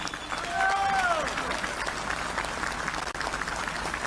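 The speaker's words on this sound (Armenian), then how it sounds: "Եվ ես ուզում եմ, որ մենք բոլորս բարձր ծափերով ողջունենք 10 եպիսկոպոսներին" A large crowd at the close of a pilgrimage march in Yerevan applauds loudly and steadily for the whole stretch, with a couple of rising whistles cutting through near the start.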